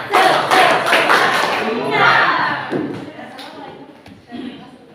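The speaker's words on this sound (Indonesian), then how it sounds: "Satu, dua, tiga. Tepuk semangat." A class claps together in a burst of rhythmic spirit claps after a school history presentation, loud at first and fading, with voices mixed in.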